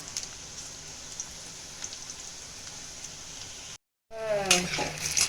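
Pakoras frying in hot oil, a steady hiss and crackle close by that fills the clip, cut by a brief silence near the end, then louder sizzling with a voice speaking over it.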